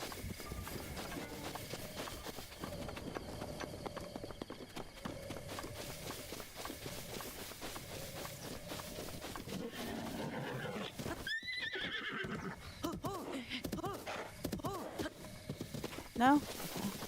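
Horses in Zelda: Breath of the Wild run past near a rock formation, hooves pounding and a brief whinny rising near the end, with someone talking over them throughout.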